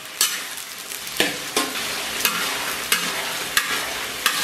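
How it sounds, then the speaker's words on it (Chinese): Chili bean paste, Pixian doubanjiang, stir-fried in hot oil with scallion, ginger and garlic, sizzling steadily with a spatula scraping and stirring about every second, close and clear with no talk. "咱们给里边来点这个郫县豆瓣酱，再次给它简单煸炒一下，对，给它炒出红油"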